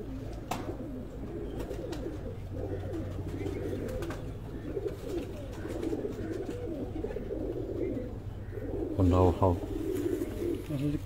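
Breeder pigeons kept at a loft in Sargodha coo steadily in low, rolling calls throughout, close by, with a louder burst of cooing near the end and some voices in the background.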